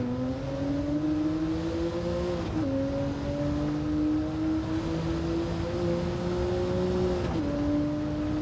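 A Porsche engine in Gran Turismo 7 climbs steadily in pitch, dips sharply twice at gear changes, then pulls up again, loud and continuous with no talking.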